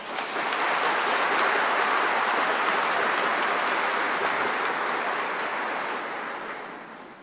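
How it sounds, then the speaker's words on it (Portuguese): A church audience gives a round of applause during a sermon: a dense, hissing wash of many hands clapping, steady and fairly distant, slowly fading out toward the end, with no talking. "A ele uma salva de palmas."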